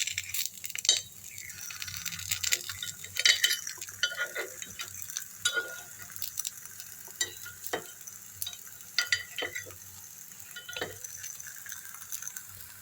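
Banana and wheat kuzhi paniyaram frying on low heat in a paniyaram pan as they are turned, with soft steady sizzling and scattered light metallic scrapes and taps.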